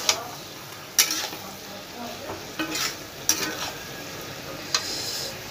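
Potatoes and pointed gourd with red chilli powder and slit green chillies stirred in a frying pan: a low sizzle under several sharp scraping strokes of a spatula against the pan, close and fairly loud.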